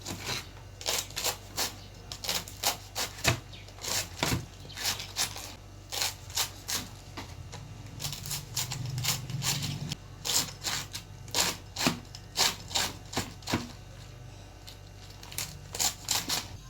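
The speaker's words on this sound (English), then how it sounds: "Me in the kitchen chopping my cabbage" Knife chopping cabbage on a board in a home kitchen, a steady run of crisp, close cuts in quick bursts with short pauses, no talking.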